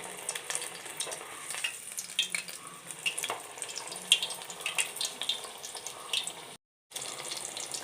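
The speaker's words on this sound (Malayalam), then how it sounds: "ഇങ്ങനെ ഓരോന്നോരോന്നായിട്ട് ഇട്ട് പൊരിച്ചെടുക്കാം തിരിച്ചും മറിച്ചും ഇട്ട് മൂപ്പിച്ചെടുക്കാം" Podi chakka jackfruit vada frying in hot oil give a steady, close bubbling crackle and sizzle with scattered pops, briefly cutting out once before resuming.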